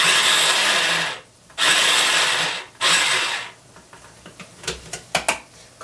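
An electric food grinder or processor whirs loudly in two long bursts as onions are ground for spaghetti sauce, followed by softer clattering and clicks.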